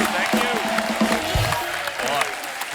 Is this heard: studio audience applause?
yes